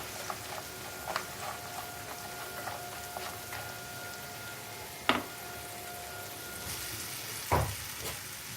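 Bread pieces fry quietly in oil in a pan for crispy breakfast eggs, a soft steady sizzle with light crackles and a few louder stirring knocks, no talking.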